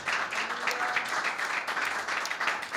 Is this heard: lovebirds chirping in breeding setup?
no